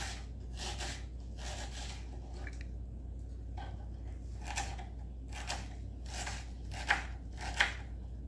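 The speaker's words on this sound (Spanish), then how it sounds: "La mitad de una cebolla. La vamos a picar en cuadritos chiquitos." A knife chops half an onion into small cubes on a cutting board, a quiet run of soft, irregular taps and crisp cuts with a few sharper strikes near the end, no talk.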